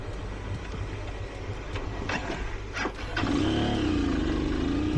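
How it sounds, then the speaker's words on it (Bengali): A motorbike engine runs at a steady low rumble on a steep downhill slope, then grows louder with a sustained droning tone in the last seconds. No one speaks. "আবার বাইকের স্টার্ট গেছে অফ হয়ে।"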